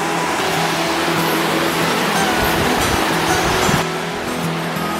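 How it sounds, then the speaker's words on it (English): White water rushes down a river in the West Virginia hills, a loud, continuous roar of churning current that holds steady throughout. "So there's some more of that beautiful white water."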